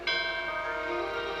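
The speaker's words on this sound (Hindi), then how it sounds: "घंटी की आवाज निकले" A metal bell rings once with a bright clang and a long sustained shimmering tone that rings on without fading much.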